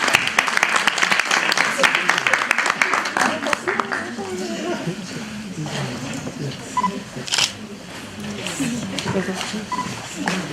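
Audience applause at a university summit: dense, crackling clapping from a crowd fills the first few seconds, then thins out as a voice and room noise take over, with scattered claps continuing.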